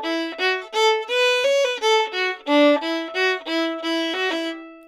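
Fiddle playing the tune Mussels in the Corner, a bright run of separate bowed notes with quick trill ornaments, close and clear with no other sound.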